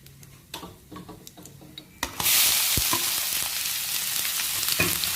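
Chopped onions hit hot oil with a sudden loud sizzle for ivy gourd curry, after a few clinks and taps of a spoon; the frying hiss then stays steady and close, with occasional stirring scrapes.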